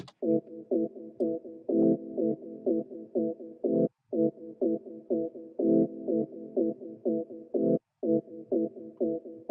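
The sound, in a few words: distortion effect on audio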